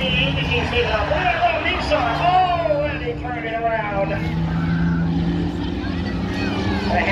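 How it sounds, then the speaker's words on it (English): Race cars at Hudson Speedway pulling away for the reverse race, engines droning and rising together in a steady roar, with a loudspeaker announcer talking over the noise throughout. "Green flag is out for the reverse race."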